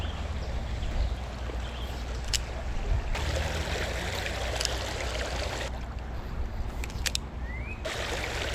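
Small mountain creek in Arkansas flowing where a little drainage ditch joins it, a steady broadband rush and trickle of water that stays close and even throughout, with no talking.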